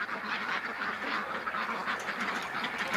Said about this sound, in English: Oh, duckies.